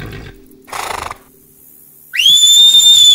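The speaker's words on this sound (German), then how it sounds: "Ein lauter Pfiff durchschneidet die Stille" A loud, piercing whistle is blown as a signal while riders herd wild horses at dawn. One long, bright rising tone rings out close by after a brief rustle, with no talk.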